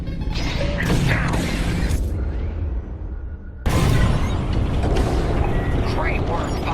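Bombs drop and explode during a trench run assault in Star Wars Squadrons, with loud, booming bursts and mechanical clatter, a brief dip in the roar, then another heavy blast, under radio voices.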